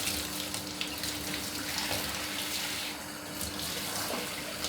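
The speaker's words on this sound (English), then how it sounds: "Then for the head, I lower the pressure of the shower." A shower runs steadily at lowered pressure while a dog is washed at home, making a constant hiss of spraying water with a faint underlying hum.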